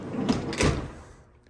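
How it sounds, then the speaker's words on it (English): The sliding side door of a 1971 Volkswagen Bus is rolled along its track, a short, close, rumbling slide with a heavier thud midway before it fades. "through this sliding door"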